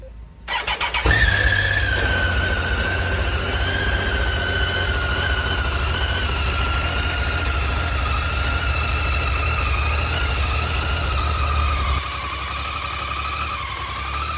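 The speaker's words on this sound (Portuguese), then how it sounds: "Deixa eu ligar a moto aqui pra dar," A motorcycle engine fires up after a brief crank and settles into a steady, loud idle to warm up on a Brazil to Atacama road trip near Foz do Iguaçu, with a constant whine running throughout.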